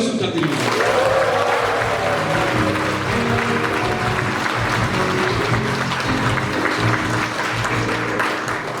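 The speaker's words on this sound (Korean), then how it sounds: "환호 감사의 박수 부탁드립니다" A crowd at a naming ceremony claps and cheers steadily, a dense, loud wash of applause with a voice briefly audible near the start.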